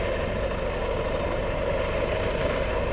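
A Coastguard helicopter hovers close to an RNLI lifeboat at a Llandudno open day, producing a steady, loud rotor and engine drone that holds unchanged throughout.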